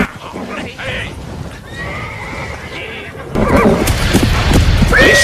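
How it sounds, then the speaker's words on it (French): Horses neigh and whinny repeatedly on a wooded trail in a 1997 Robin Hood adventure series, with clip-clop of hooves and restless snorting, the calls growing louder and closer toward the end. "Les chevaux veulent pas avancer."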